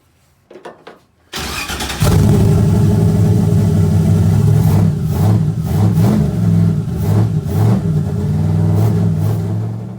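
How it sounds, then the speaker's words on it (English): A carbureted car engine running on E85 cranks with a couple of short bursts, catches and fires up loudly, then idles roughly with several throttle blips and revs, heard close up with no talking. "So we have a running E85 carbureted car."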